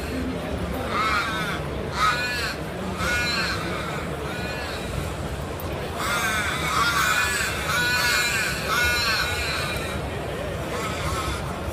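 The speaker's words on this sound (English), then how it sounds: "So we want these bird sounds to trigger like a lot more often." Crows caw repeatedly in short angry bursts, clustered early and then again through the second half, layered over a steady ambient bed with voice-like activity mixed in, demonstrated as triggered game ambience in FMOD at a GDC 2016 game audio talk.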